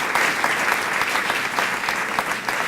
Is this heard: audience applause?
yes